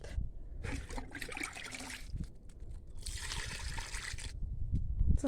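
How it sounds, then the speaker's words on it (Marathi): Water trickles and splashes in bursts as it is poured onto a flowering plant outdoors, steady and close, with no talking. "त्याला पण जरा पाणी घालत"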